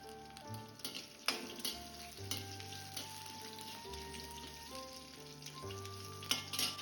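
Shallots, red chili and curry leaves fry in hot oil for South Indian sambar, a close, steady sizzle with crackling pops and occasional stirring scrapes, with background music playing throughout.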